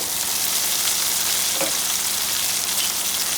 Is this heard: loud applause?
no